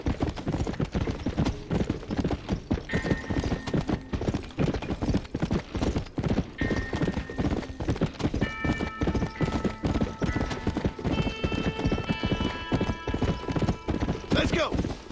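Horse hooves clip-clopping steadily in Red Dead Redemption: Undead Nightmare, a continuous rhythmic trot loud in the foreground, with occasional tonal game sounds and a whinny toward the end.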